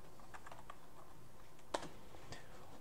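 Quiet typing on a computer keyboard, a few soft, irregular key taps with one sharper click, close and alone without any voices.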